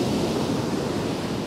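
Ocean surf rolls in on a beach used for surf fishing in Kilcunda, a dense, steady wash of noise, loud and close with no break.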